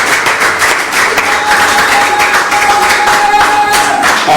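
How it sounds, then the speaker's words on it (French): A church congregation at an Easter-season service claps steadily to acclaim the Lord Jesus, a loud, sustained wash of applause filling the room throughout. "Est-ce qu'on peut acclamer le Seigneur Jésus?"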